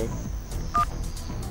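A VoIP desk phone gives a brief electronic keypad tone as the number 2030 is dialed, with fainter key presses around it against a steady background hum.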